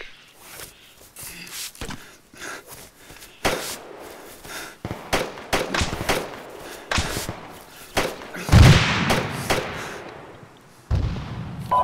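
Gunfire rings out in Arma 3, sharp irregular shots and bursts, some close and loud, others more distant, spread across a tense firefight with quieter gaps between volleys.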